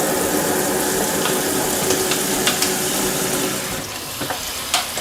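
Steady rushing of cold water running from a kitchen tap fills the clip, a broad continuous hiss with a few faint clinks near the end.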